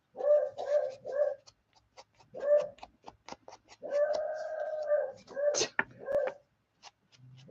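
Beagle barking in short repeated bursts, several loud harmonic yelps in clusters with gaps between, fairly near, with a voice briefly present.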